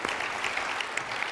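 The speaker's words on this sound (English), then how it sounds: "Let's give these guys a big round of applause." Brief, fairly faint burst of audience clapping at a conference closing general session, steady and even without voices over it.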